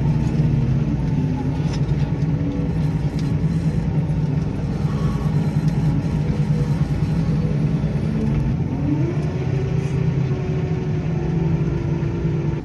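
A tractor pulling a plough across a field at about 6 km/h gives a continuous, even engine drone with a low rumble, steady and close throughout, and no voices.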